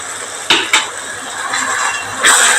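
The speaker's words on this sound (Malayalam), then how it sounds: "അതിൻ്റെ പച്ചമണം പോണ വരെ നമ്മൾ ഇളക്കി കൊടുക്കാം" A spoon clinks twice against a pan and then scrapes steadily as chilli and turmeric powders are stirred into a roasted-coconut chicken curry. A louder scrape comes near the end.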